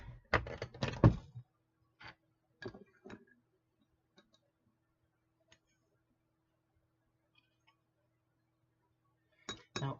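Dillon RL550B progressive reloading press loading .44 Magnum cartridges: a cluster of metallic clinks and clunks at the start, then a few isolated ticks and taps, ending with another brief rattle, close by in a quiet room.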